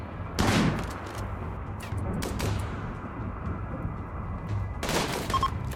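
Shotgun blasts and gunfire crack through a video game battle in three main bursts at the start, middle and near the end, with lighter scattered shots in between over a low, steady background rumble.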